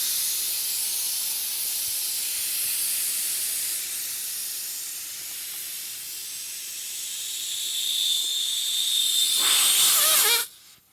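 Air hisses steadily out of a Power Trac 1850 tractor tire, a close broadband rush lasting about ten seconds, easing slightly midway, then swelling before cutting off abruptly.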